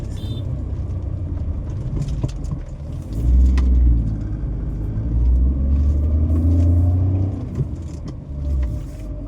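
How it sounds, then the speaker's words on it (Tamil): A vehicle engine labors up a steep slope with a deep, loud, steady rumble that swells and strains for several seconds before easing. "நம்ம வண்டி ஏறலைங்க, வண்டி குறைக்காத போக மாட்டேங்குது நேயர்களே"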